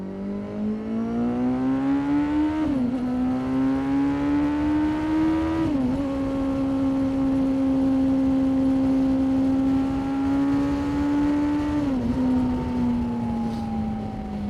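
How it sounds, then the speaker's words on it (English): A Kawasaki Z800 motorcycle is ridden hard on the road, its engine loud and droning as it accelerates through the gears, with pitch climbing and dipping at each shift under steady wind rush. "the bike needed a bit of opening up there"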